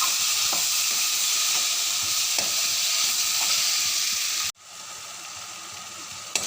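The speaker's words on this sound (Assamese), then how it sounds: "বিলাহীখিনি দি পুনৰ পিঁয়াজ, আদা, নহৰু, জলকীয়া, মছলাৰ মিশ্ৰণৰ লগত এবাৰ এইখিনি সুন্দৰকৈ ভাজি ল'ম।" Tomatoes frying with onion, ginger, garlic, chili and spice mix for an Assamese fish head curry, a loud, steady close sizzle that cuts off abruptly near the end to a quieter hiss.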